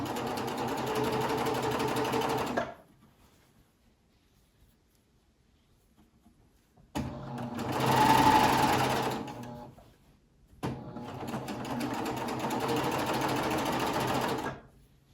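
A sewing machine stitches in steady bursts, running about three seconds, pausing, then running again in two longer spells, close and fairly loud.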